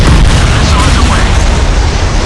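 Missile strike destroying a small fast surface target in the naval game Modern Warships, a loud sustained booming blast with rumbling low end and crackle throughout.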